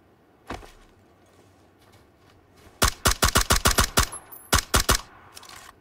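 Video game gunfire: a single shot, then a rapid string of about ten loud, sharp shots in quick succession, a short pause, and another burst of four or five, close and dry.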